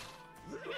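Horse in The Sims 4 gives a brief, quavering whinny that rises and wavers for under a second, faint and alone.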